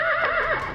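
A horse whinnies alone in a short, loud, close call with a wavering pitch that rises and falls and then fades out.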